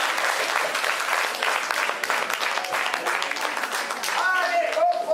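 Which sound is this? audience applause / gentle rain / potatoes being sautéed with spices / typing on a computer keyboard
audience applause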